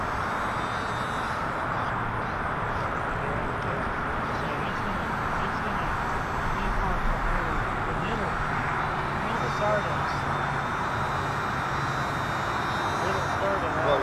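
The engine of a double-size Ringmaster model airplane runs at a constant loud, buzzing drone throughout, with people talking over it nearby.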